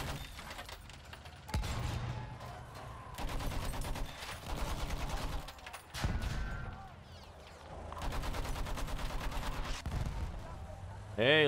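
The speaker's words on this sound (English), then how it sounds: "Hey, look at that, a mortar." Battlefield 1 artillery and mortar fire sound as repeated rhythmic bursts of heavy rapid shots, rising and falling in clusters across the clip, with a player talking over it.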